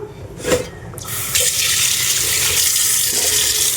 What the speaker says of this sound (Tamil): இருந்தாலும் நம்ம கொஞ்சம் ஒரு வாட்டி நல்ல தண்ணியில் அலசிக்கலாம்